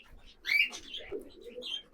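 High quality loft pigeons cooing close by, a few soft throaty coos and calls with brief chirpy notes over about two seconds, no talking.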